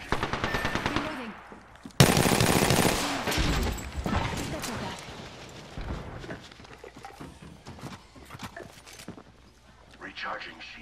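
Gunfire in a video game played as Watson, rapid automatic bursts that start loud and then continue as dense repeated shots with clattering, mixed with speech.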